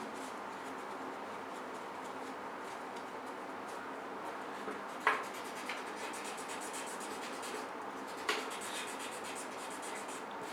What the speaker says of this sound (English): let's take a new tissue paper